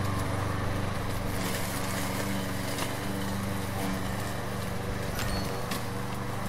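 Engine drone of a lawn mower mowing grass in the House Builder game on PS4, a steady continuous hum with no breaks throughout.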